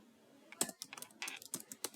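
Typing on a computer keyboard while writing C++ file code, a quick irregular run of crisp, close key clicks, fairly quiet, without talking.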